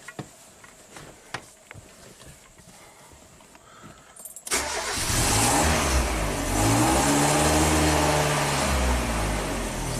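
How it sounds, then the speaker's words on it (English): A 1997 Kia Sportage 4x4 with a surging idle: a quiet stretch of small clicks and handling noises gives way abruptly to a loud, steady engine roar that holds and rises slightly as the throttle is tapped. "Let's tap the throttle here."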